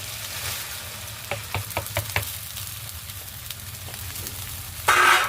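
Drained, washed rice tipped into a hot pan for khichuri, giving a steady sizzle with several soft stirring knocks and a louder burst of frying near the end, no voices.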